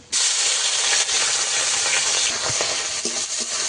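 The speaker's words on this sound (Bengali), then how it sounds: "চিংড়ি মাছটা ভেজে নেব।" Turmeric-coated prawns dropped into hot oil burst into a loud, steady, close hissing sizzle that starts abruptly and holds, with faint crackles and no talk.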